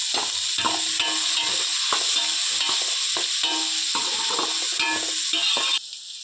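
Chopped onions fry in hot oil in a pan for a village-style curry, a steady loud sizzle broken by regular scraping stirs of a spoon, easing off abruptly near the end.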